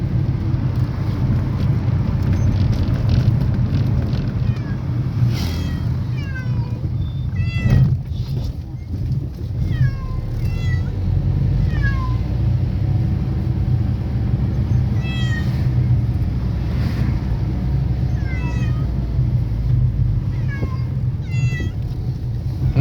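Several cats meow repeatedly inside a moving car, their rising cries coming in bursts over a steady low road and engine rumble, fairly close and loud.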